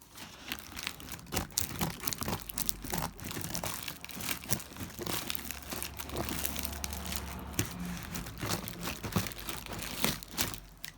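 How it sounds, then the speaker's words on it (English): Scissors cut through cardboard box packaging during an unboxing of new stock, with dense crinkling, crunching and tearing sounds close to the microphone, continuous and irregular throughout. "I have to get the scissors on this bit again."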